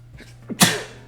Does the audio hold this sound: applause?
no